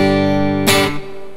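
Clean single-coil Fender Telecaster Mexico Classic 50 played through a Yamaha THR-10 amp, a sustained chord ringing alone with a bright fresh strum midway before it decays.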